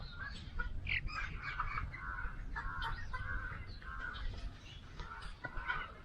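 Broiler chickens in a poultry farm shed keep up a steady, dense mass of clucking and chirping, with no talk over it.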